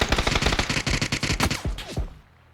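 Rapid bursts of automatic gunfire from a PUBG match on the Miramar desert map, loud and close, with overlapping shots and a few lingering echoing reports before trailing into quiet.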